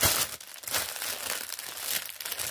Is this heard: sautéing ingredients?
no